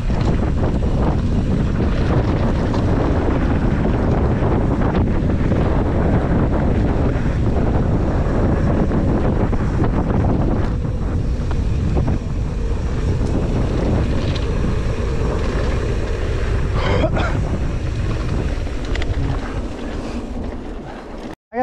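Strong wind buffets the microphone outdoors in the Bay Area, a loud continuous low rumble with gusty surges throughout and no voices.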